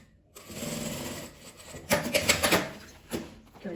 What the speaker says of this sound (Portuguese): passando a costura em cima dessa linha onde eu já costurei